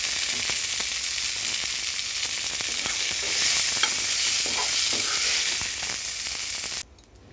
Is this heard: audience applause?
no